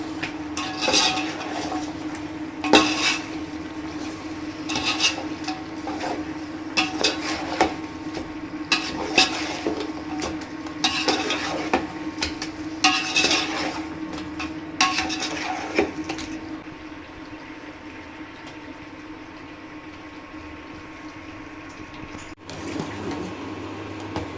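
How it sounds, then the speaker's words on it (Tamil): Chicken for dum biryani gets mixed by hand with salt and spices in a metal vessel: repeated scraping, clinking and squelching bursts, fairly close, easing into quieter handling toward the end. "நம்ம இது எல்லாத்தையும் சேர்த்து நல்லா மிக்ஸ் பண்ணிக்கிறேன்"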